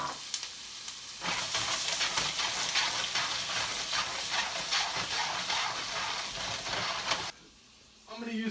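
Cut potatoes sizzling in butter in a pan, a steady loud frying hiss with bits of stirring that cuts off sharply near the end, followed by a brief quiet gap.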